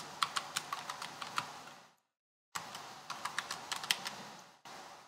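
Fingers type on a computer keyboard in short bursts of crisp, close key clicks, pausing briefly in silence before another run of taps resumes.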